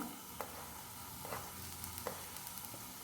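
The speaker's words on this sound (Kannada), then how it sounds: "ಸ್ವಲ್ಪ ಕ್ಯಾಪ್ಸಿಕಮ್ ಹಾಕಿ ಇದನ್ನು ಫ್ರೈ ಮಾಡಿಕೊಳ್ಬೇಕು" Vegetables including carrot, cabbage and capsicum fry in a pan for chicken fried rice, giving a steady close sizzle with a few sharp stirring scrapes and clinks.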